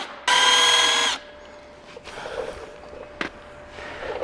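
A power tool spins out the clutch bolts on a Honda CRF450L, one loud whining burst of just under a second, followed by quieter clatter and a brief tap.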